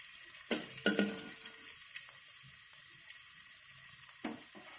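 Beans fried in a little oil for fried Maggi noodles, with a soft continuous sizzle and a few sharp scraping stirs of the pan near the start and one more toward the end.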